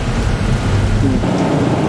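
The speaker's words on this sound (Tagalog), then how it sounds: "wala nga tigil ang pag-ulan dito sa Ilocos Norte" Heavy rain pours steadily during a storm in Ilocos Norte, a dense loud wash with a low thunder rumble rolling underneath, no voices.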